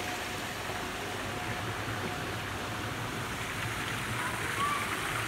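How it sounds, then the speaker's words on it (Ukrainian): Children's water fountains splash at a hotel pool in Croatia, a steady, even rush of falling water that holds at one level throughout, with a faint background murmur. "Тут фонтанчики тоже для детей."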